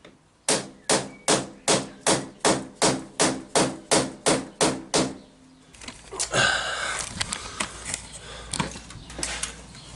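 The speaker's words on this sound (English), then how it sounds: "give it a bit of persuasion with a rubber hammer on the far side just to help knock it through" A rubber hammer knocks on a stuck motorcycle starter motor part in a steady run of about a dozen evenly spaced, solid thuds, close and loud, followed by clattering handling noise.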